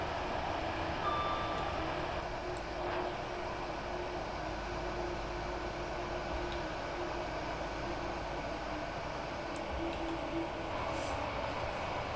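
Running sounds of a Class 802 IET train in Train Sim World on the South Devon main line, heard as a steady droning hum and rumble with faint tonal whines. The sound stays low in level and continuous, with no talk.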